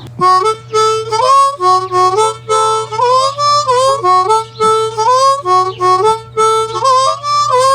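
A harmonica plays a short repeating melody of held blown and drawn notes, shifting pitch in a steady phrase, loud and close with no voices.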